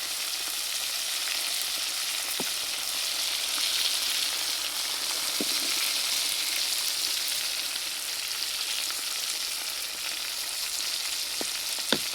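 Quail pieces frying in oil in a pan, with a steady dense sizzle and crackle that runs throughout and a few sharper pops standing out.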